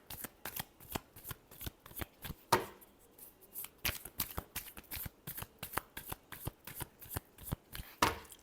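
Tarot cards being shuffled by hand, a brisk regular series of crisp riffling slaps and taps, close and fairly quiet, with no talking.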